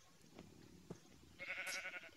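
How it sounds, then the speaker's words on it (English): A Minecraft sheep gives a single short, faint bleat near the end, over quiet in-game background noise. "There's a sheep."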